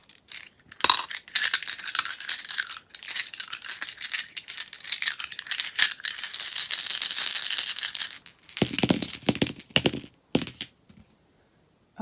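Eight Looney Tunes dice are shaken and tumbled together, giving a dense clattering rattle for several seconds, then a few scattered knocks and clicks as they settle, close and fairly quiet.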